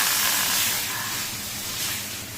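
Dal tempering hitting hot oil, a loud rushing hiss of sizzle and steam, strongest at first and easing slightly.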